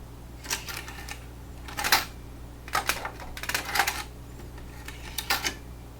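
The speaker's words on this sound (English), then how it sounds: "I'll eject the disk and write to the table of" A Sony MDS-E12 professional MiniDisc recorder ejects a disc and writes its table of contents, producing a series of quiet mechanical clicks, whirs and clattering bursts in irregular clusters over a low steady hum.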